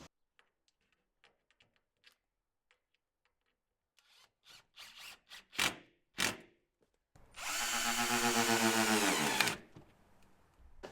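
A cordless power drill drives screws into timber shed cladding, starting with scattered taps and short bursts of handling, then a loud sustained whir of several seconds that stops abruptly, heard close up.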